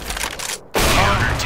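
Rapid bursts of gunfire shoot through a wall in a competitive first-person shooter 1v1 match, a loud rattling volley, a brief gap, then a second sustained burst.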